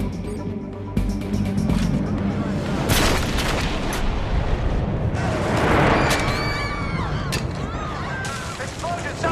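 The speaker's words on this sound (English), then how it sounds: "Explosion, southwest corner." A loud, chaotic blast scene from a TV drama: heavy booming explosions and crackling debris, with shouting and alarms layered over continuous rumbling noise.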